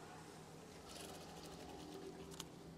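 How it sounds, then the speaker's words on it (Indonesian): Sewing machine stitching curtain fabric for an eyelet swag curtain, a faint steady mechanical whir running continuously with a small click near the end. "jahit saja seperti ini"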